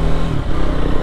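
A Triumph Scrambler 400 XC, a small motorcycle engine of about forty horsepower, idling or running steadily up close with a loud, even low rumble throughout.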